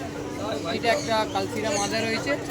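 Pigeons coo softly at a pigeon market in Serampore, mixed in with nearby people talking and general background chatter.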